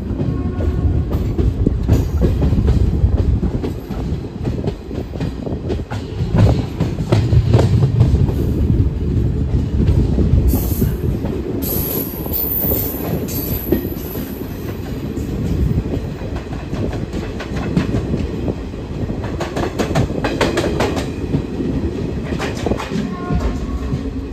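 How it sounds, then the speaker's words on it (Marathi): A train rumbles steadily past at Harangul railway station in Latur, with rhythmic clacking of wheels and a brief high metallic squeal, loud and close, with no voices. "अशा प्रकारचा हा हरंगुळ रेल्वे स्टेशनचा परिसर आहे"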